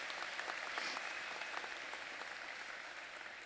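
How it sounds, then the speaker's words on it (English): Audience applause for a classmate at the 2015 Strait Area NSCC graduation, a steady wash of clapping from a large crowd that holds even and moderately loud throughout, with no voices over it. "I'd like a round of applause for Roger."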